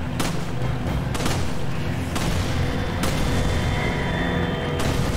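An explosion in the video game Resident Evil 5: sharp booming blasts land several times over a dense, loud rumbling din of game noise, with no talk heard.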